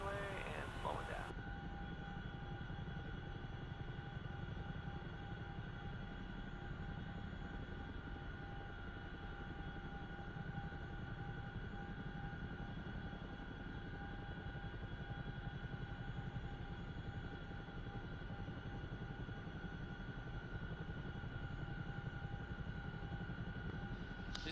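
A Chinook helicopter in DCS World, with a steady engine whine and a low rotor rumble that holds evenly throughout, faint and continuous, with no voices.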